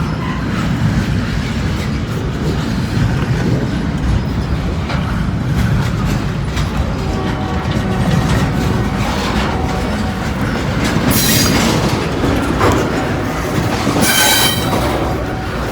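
A long freight train rumbles steadily past up close while switching tracks, with rhythmic clattering over the rails, and high metallic wheel squeals rise and fade near the end.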